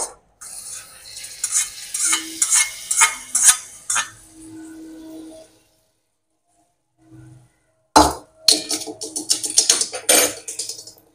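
A hot oil tempering with curry leaves is stirred in a pan with scraping and clinks, then, after a silent pause, poured over chutney with a burst of sizzling and metallic clatter.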